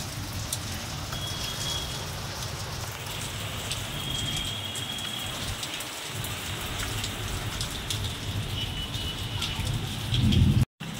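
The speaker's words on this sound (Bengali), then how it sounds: "এখানে বিশাল ঝড় বৃষ্টি শুরু হয়ে গেছে, দেখুন কীরকম মেঘ ডাকছে" Heavy rain pours down steadily during a spring thunderstorm, a dense continuous wash of drops on surfaces, with a brief low rumble near the end before a sudden cut.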